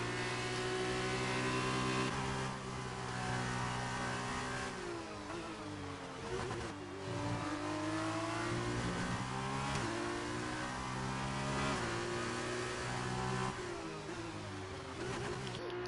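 Formula 2 race cars in a sim racing game at the Russian round, engines screaming at high revs with repeated rising and falling pitch sweeps through gear changes, loud and close, with no talk.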